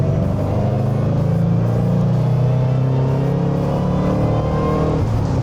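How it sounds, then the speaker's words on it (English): A Roush Mustang's supercharged 4.6 V8 with twin-screw blower drones loudly and steadily from inside the car, a deep rumble holding under load with a slight dip near the end and no voices. "It is not a torque monster like you would think, but with the twin screw supercharger, the way the power builds is super exciting."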